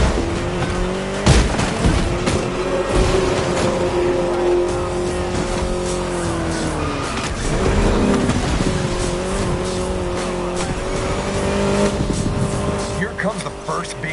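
An Austin Mini Cooper S races in The Crew Motorfest, its engine holding a steady, loud drone with pitch shifts as it shifts and slows, plus brief tire squeal; a voice speaks over it at times.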